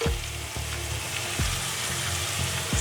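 Green chillies frying lightly in oil, a constant close crackling sizzle with a few faint stirring knocks.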